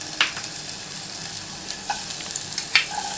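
Tomatoes and onions for veg chop suey sizzle steadily in a hot pan, a close crackling hiss with a few sharp pops and stirring clinks.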